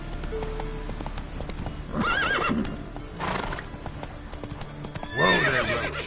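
Roach, the horse in The Witcher 3, clops along with steady hoofbeats and lets out a couple of loud, close whinnies, the last neigh the strongest, over a low game-world background.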